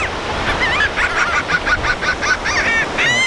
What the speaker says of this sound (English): Uh-oh. Bird fight.